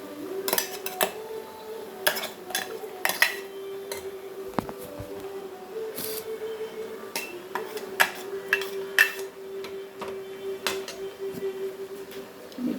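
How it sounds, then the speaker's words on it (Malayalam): Ground spice paste is added to jackfruit in a cooking pot and stirred, with scattered metallic clinks and scrapes of a utensil against the pot over a steady background hum. "ഇനി നമുക്ക് ഈ അരപ്പ് നമുക്ക് ചക്കയിലേക്ക് ചേർത്ത് കൊടുക്കാം."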